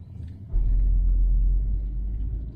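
A 2012 Audi RS3 hatchback drives through a U-turn, heard from inside as a deep steady rumble that swells after a brief quieter start, with no talking.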